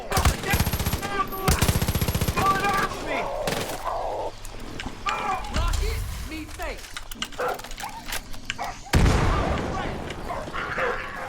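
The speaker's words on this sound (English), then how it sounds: "Oh, I hear that guy who's shooting." Far Cry 5 gunfire comes as rapid, close bursts of shots, then scattered cracks and a final loud volley, mixed with a dog barking and game sounds.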